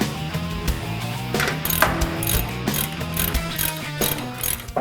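Hand ratchet working the upper ball joint nut on a 2005-or-later Toyota Hilux during a suspension lift install, rapid loud clicking pawl strokes in repeated bursts, close up with no speech.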